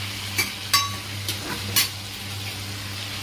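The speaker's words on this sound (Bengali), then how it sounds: "নাড়াতে যখন একটু ভাজা ভাজা হবে," Salt and turmeric fry in a pan with a steady, close sizzle while a spoon stirs, scraping and clinking against the metal about four times at uneven intervals.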